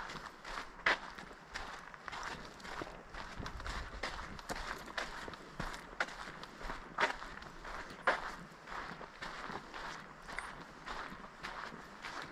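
Footsteps walking down an outdoor path toward Judaculla Rock in Cullowhee, North Carolina, a steady irregular crunch of steps, quiet and close, with faint outdoor background and no talking.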